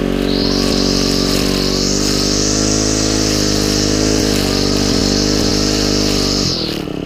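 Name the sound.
Husqvarna 224L trimmer edging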